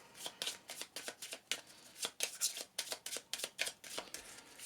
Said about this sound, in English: I need to shuffle up and give myself an encounter card